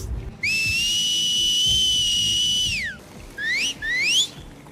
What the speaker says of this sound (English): the Seraphites use different kinds of whistles to communicate during battle